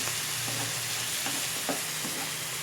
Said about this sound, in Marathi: थोडंसं तेलामध्ये इथे आपली मिरची आणि लसूणचा घेतलेला आहे ना तो छान भाजून घ्यायचा